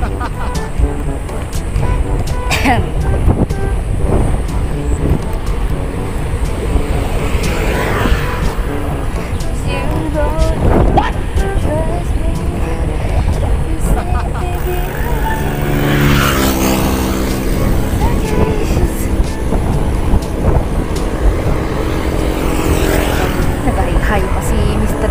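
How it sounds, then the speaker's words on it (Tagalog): Loud, constant wind roar buffets the recording during a bike ride to Guirutsan Falls, with motor-like rumble and people talking underneath. "Malakas ang hangin."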